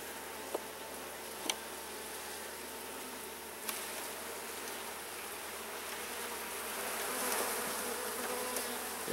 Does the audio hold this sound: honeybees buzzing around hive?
yes